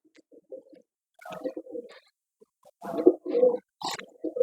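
A female pigeon coos nearby in short, throaty bursts separated by silent pauses, with no other sounds around it.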